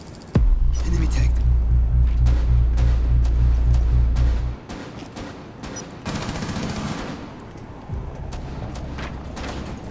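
Shotgun fire in Rainbow Six Siege: a heavy burst of rapid blasts in the first few seconds, then sparse sharp shots and clatter, with players talking over the action.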